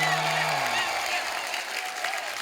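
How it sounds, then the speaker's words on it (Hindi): Studio audience applause on a Hindi comedy talk show, a steady dense wash of clapping from a crowd, with a voice briefly audible underneath. "जोरदार तालियां"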